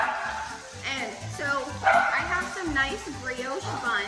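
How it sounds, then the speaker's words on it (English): A dog barks and yips repeatedly in short bursts close by, underneath a person speaking. "I think he's actually barking at the frying pot"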